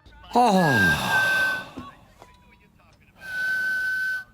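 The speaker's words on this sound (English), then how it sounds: "the new gap in his teeth causes Bean to unintentionally whistle whenever he speaks" A thin, wavering whistle rises and falls, then sounds again after a pause, air hissing through a gap in a man's teeth as he tries to speak.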